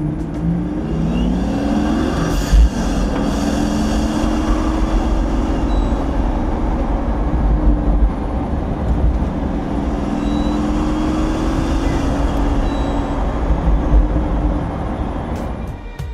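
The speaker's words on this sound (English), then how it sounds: "the sound of the vehicle and the way it performs, all the turbos coming in and out" A powerful turbocharged Pagani Huayra engine roars loudly and continuously, its pitch rising and falling as it accelerates through gears, with a steady rumble underneath.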